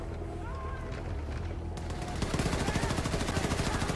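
Enemy automatic gunfire in Wolfenstein II starts midway as a fast, even burst of rapid shots, moderately loud and slightly distant, after a quieter stretch of low rumble.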